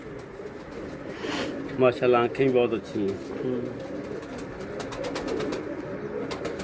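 A pigeon coos in soft, rolling pulses in an indoor bird room while someone talks nearby in Hindi, with steady background hum and faint clicks.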